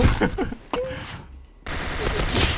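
Gunfire from an AN-94 rifle in the shooter game Point Blank, heard as a few short sharp bursts mixed with game noise and brief voice sounds, cutting to near silence mid-clip before the action resumes.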